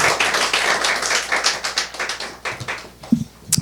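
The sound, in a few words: applause for the worship singers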